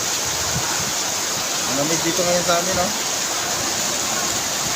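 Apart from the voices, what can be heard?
flooded river rushing in heavy rain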